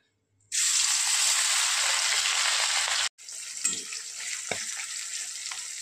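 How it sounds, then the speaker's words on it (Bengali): Puti fish hit hot mustard oil with a sudden loud, bright sizzle that hisses steadily, breaks off briefly, then resumes a little softer with faint clinks of stirring. "তো চলুন মাছগুলো ভেজে নিই"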